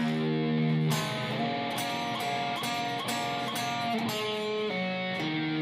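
Electric guitar plays a blues rock passage at slow tempo, a steady run of picked notes and chords with a regular rhythm, close and clear with no talking.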